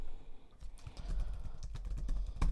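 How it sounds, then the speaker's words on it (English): A computer keyboard is typed on in quick irregular bursts of soft clicks and taps, close to the microphone, with no talking. "So when you start typing something"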